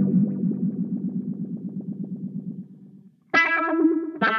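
Electric guitar run through a Way Huge Attack Vector effects pedal, starting with a pulsing warbled low figure that fades, then bright swelling distorted chords after a short gap, with no talking.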